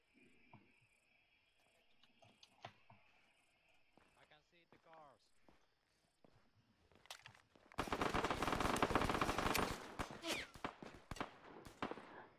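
Machine gun fire in modded Arma 3, scattered distant shots and insect-like ambience building into a loud sustained burst of rapid automatic fire, with people talking over it.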